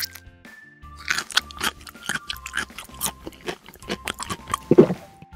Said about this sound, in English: try this green broccoli. It'll be nice and crunchy, but it might have a bitter taste.